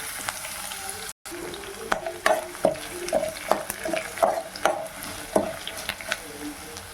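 Dried red chillies and garlic crackle and sizzle in hot oil in a pan for a vadagam chutney, with frequent sharp pops and spatters over a steady frying hiss and occasional stirring, no voices.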